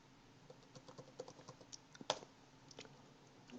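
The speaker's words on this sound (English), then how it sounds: "So we'll type in a no over here" Quiet keystrokes tap on a computer keyboard, irregular and sparse, with one sharper key press near the middle and no talking.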